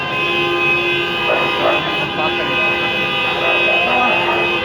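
Car horns honk at a presidential motorcade on Svobody Avenue in Lviv, with several sustained toots from nearby traffic layered over a busy street and people talking.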